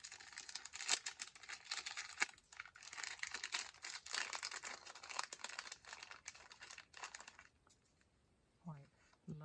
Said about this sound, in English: Tear that open.